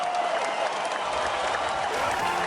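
Marble team members of Kelvin Cosmos cheer and applaud for the gold-winning marble Frigid at a marble racing competition, a steady, dense crowd roar sustained throughout.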